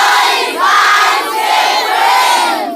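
A studio audience at a children's radio show cheers and shouts loudly and steadily for the whole stretch. The crowd noise stays dense and close, with rising whoops at several points, and no clear speech comes through.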